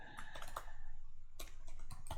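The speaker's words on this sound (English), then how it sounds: "I'm typing like a maniac on the other screen. You can hear that." Fast typing on a computer keyboard, close and quiet, keys clattering in quick bursts with a brief pause in the middle, with no voices.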